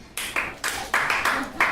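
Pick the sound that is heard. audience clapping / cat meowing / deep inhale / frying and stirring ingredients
audience clapping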